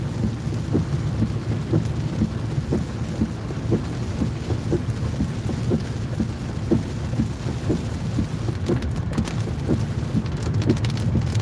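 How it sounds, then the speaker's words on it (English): A thunderstorm over the Lickey Hills in North Worcestershire brings steady heavy rain hissing on surfaces, with low rumbling thunder rolling underneath throughout, loud and close. "It's good to catch the power of the storm right in the middle of it though."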